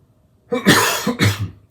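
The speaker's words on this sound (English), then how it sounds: "I apologize for coughing." Two harsh, close coughs in quick succession, loud and rough, after a moment of near silence.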